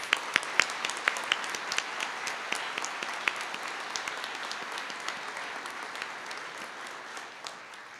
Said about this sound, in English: So could we have a final round of applause for all of our Award of Merit winners?